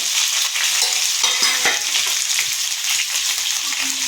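Sliced onions sizzle loudly in a pan as the base for a mackerel fish curry, a constant close hiss with a few soft stirring knocks and no voices.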